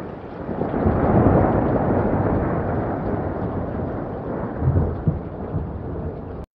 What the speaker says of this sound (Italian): Scende la notte e scoppia un temporale.